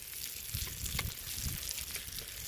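Tilapia coated in semolina and spices fries on a flat iron pan over a wood-fired stove, giving a soft, continuous sizzle with scattered crackles. The sound is faint and steady throughout, with no voices.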